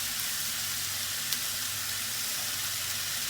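Garlic sizzles with mushrooms in a frying pan, a steady broadband crackle and hiss at close range that holds even throughout with no pauses and no talking.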